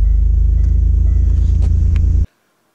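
A car engine fitted with a newly installed AEM in-tank performance fuel pump rumbles loud and steady up close, then cuts off abruptly into silence.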